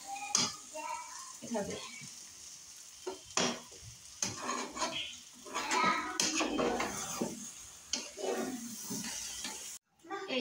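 Meat and rice being stirred together in a pot for biryani, with irregular scraping and clinking of a spoon against the pot and light sizzling throughout, close and moderately loud, with a few brief spoken words.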